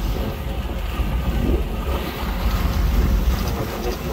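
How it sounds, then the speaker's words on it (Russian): Motor yacht cruising past on the sea near Vladivostok, a low engine rumble mixed with wind and water wash, steady and moderately close, with no talk. "И рядом яхточка, он моторная идет."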